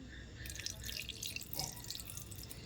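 Beetroot paste mixed with water poured into milk-based pitha batter for pink patishapta, a faint trickling and dripping that runs steadily and close by, with no voices.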